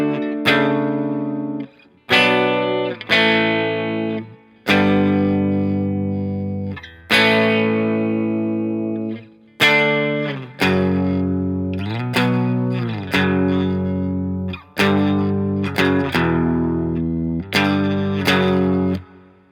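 Distorted electric guitar plays power chords, loud, close strummed chords in a halting rhythm, each ringing briefly before the next, with no talking.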